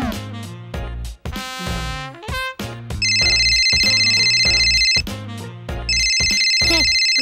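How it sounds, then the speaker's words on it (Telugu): A phone's ringtone plays a bright, repeating electronic melody in two long sustained bursts, preceded by short musical notes, loud and close with no talk over it. "ఆహా, సరే నీ ఫ్రెండ్ ఇక్ష్వాకి ఫోన్ చేయి."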